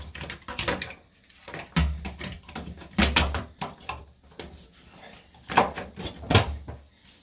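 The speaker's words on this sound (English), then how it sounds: "And then we can put the little door back on." A small plastic access door on an LG washer dryer combo is fitted back into place, producing a series of close, sharp clicks, knocks and rattles at irregular intervals.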